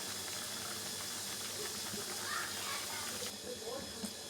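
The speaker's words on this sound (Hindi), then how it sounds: "अब इसको हम लो फ्लेम पे फ्राई करेंगे" Kachori frying in hot oil on a low flame, a soft continuous bubbling hiss with faint clicks, quiet and close.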